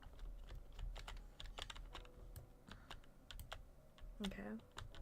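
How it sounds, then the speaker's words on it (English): Quiet, irregular clicks of typing on a computer keyboard, a rapid scatter of key taps with a brief muffled voice-like sound near the end. "you're just typing out a really lengthy explanation response."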